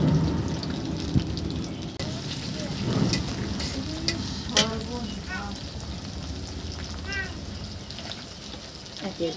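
Prawns fry in plenty of hot oil for a jackfruit curry, giving a steady, close crackling sizzle with a few sharper pops and stirring clatters, while someone talks over it.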